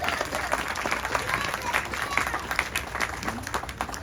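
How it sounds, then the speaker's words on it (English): Audience applause at a political awards event honoring a state legislator, with a steady wash of clapping and crowd noise across the whole stretch. "give him a round of applause."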